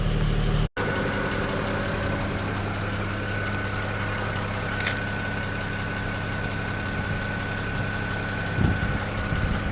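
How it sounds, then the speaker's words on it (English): A BMW 335i with the N54 engine idling steadily and close, a constant hum under a busy ticking clatter from noisy fuel injectors, with a brief dropout near the start and no talking. "the injectors are just so damn noisy on this car"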